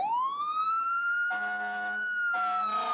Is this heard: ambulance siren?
yes